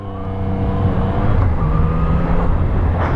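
Engine of a 2017 Yamaha MT-09 motorcycle in sport mode with traction control off, pulling hard in a steady, loud drone that holds a rising harmonic tone for the full stretch, close and alone with no talk.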